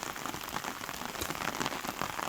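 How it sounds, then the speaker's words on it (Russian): Heavy rain pours down steadily in a dense, hissing wash, with drops drumming on surfaces close by throughout, no voices over it. "Сегодня ливень."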